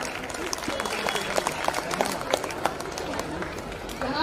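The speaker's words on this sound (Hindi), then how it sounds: "तालियों की गड़गड़ाहट के साथ स्वागत कीजिए" Audience applause at a school kavi sammelan during a golden jubilee function, welcoming a child poet to the stage; steady clapping from a crowd carries through, with some chatter mixed in.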